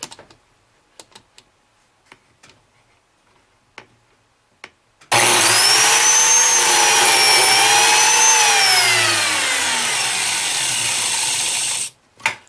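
A biscuit joiner spins up loud and plunge-cuts into a wooden stile for framing, a whining motor with a shifting pitch as the blade bites, lasting about seven seconds after some quiet clicks and handling, then cutting off abruptly.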